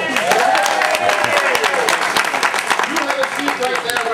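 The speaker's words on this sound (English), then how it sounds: "And the crowd applauds." A crowd applauds steadily at a World Values speech event, the dense patter of clapping running throughout while a voice carries on over it.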